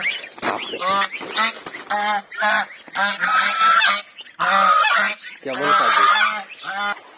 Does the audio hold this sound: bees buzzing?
no